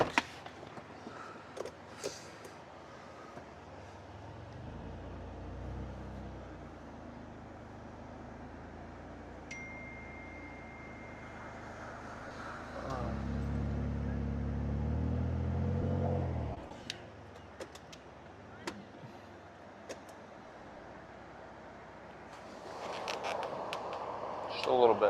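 A Jeep's engine rumbles low and steady while it is winched up out of a hole on a rough edge, swelling louder midway and again near the end amid creaks and mechanical clanks, with voices talking at times.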